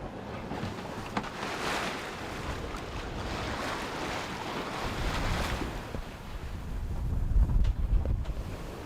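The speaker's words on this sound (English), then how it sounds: "You can hear the waves crashing against the rocks out here." Waves crash against rocks at sea beside a sailboat, a continuous rushing wash of surf mixed with gusting wind buffeting the microphone, with heavier surges toward the end.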